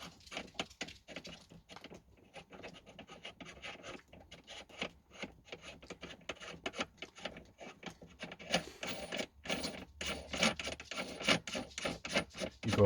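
A reloading die is spun by hand into a reloading press for 300 Win Mag cartridges, making a long run of quick, close scraping and rubbing strokes of metal threads, irregular and fairly quiet.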